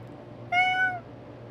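A person imitates a cat with a single drawn-out, rising-then-falling meow, fairly clear and close, lasting about half a second against quiet background noise.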